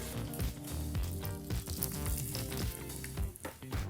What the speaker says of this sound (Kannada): ಈ ಒಗ್ಗರಣೆಯನ್ನು ಚಟ್ನಿಗೆ ಹಾಕೋಬೇಕಾಗತ್ತೆ